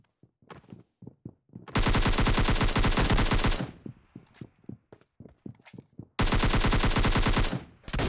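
Two long sustained bursts of automatic AKM rifle fire in PUBG Mobile Lite, loud and continuous, separated by scattered single shots and footstep-like clicks.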